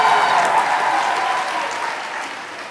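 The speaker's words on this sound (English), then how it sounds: "if we could please have a round of applause for Dean Chang" An audience at a university convocation gives loud, sustained applause that fades slightly toward the end.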